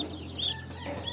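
Chickens cluck and chirp close by in a farmyard setting, a few short overlapping calls with higher peeps over a low steady hum.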